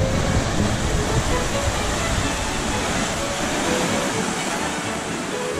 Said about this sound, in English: having made a mistake and filled the lock up the wrong way around, we come up here and we're letting the water out